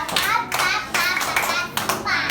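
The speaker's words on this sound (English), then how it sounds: "Clap for Joy2theWorld." Young nursery pupils applaud together in a classroom, bursts of loud clapping repeating three times in quick succession, close and lively with a voice faintly mixed in.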